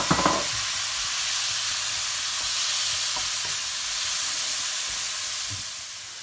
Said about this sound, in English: Then we can go ahead and add the chopped tomatoes.